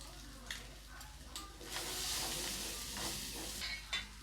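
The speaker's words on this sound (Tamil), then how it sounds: "இப்போ இது ஒரு அஞ்சு நிமிஷம் நல்லா ஃப்ரை ஆகட்டும்" Quail egg roast frying in a pan gives a soft, steady sizzle punctuated by occasional stirring scrapes and spatters, fairly faint and close, with no talking.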